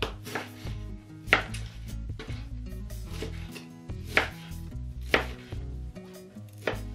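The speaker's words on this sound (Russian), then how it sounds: "Куриное филе нарежем не очень крупными кусочками." A knife chops chicken fillet on a cutting board in an irregular series of firm thuds, close and clear, with no talking.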